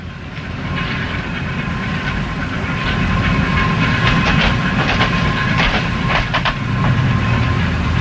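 A train rolling along the rails in a film, a steady heavy rumble with clattering metallic clicks and brief bright squeals, building slightly louder partway through and sustained without speech.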